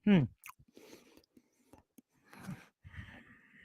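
Gum is chewed with wet, smacking mouth sounds in short, irregular bursts separated by brief silences, close and fairly quiet.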